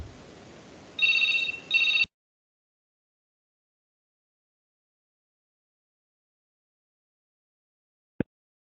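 A telephone rings twice in quick bursts, loud and close, after a moment of low room noise during a classroom lecture, followed by long silence and a single sharp click.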